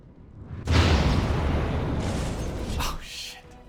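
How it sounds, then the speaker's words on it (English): A trap goes off with a sudden loud blast in Dragon Age: Origins, then a roaring, rumbling burn that holds for about two seconds before it fades out. "did they actually set off a trap explosion"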